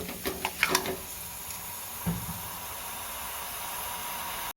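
Chicken curry being stir-fried on a high gas flame, with a steady hiss of sizzling oil throughout, a few sharp scraping spatula strokes near the start and another a couple of seconds later.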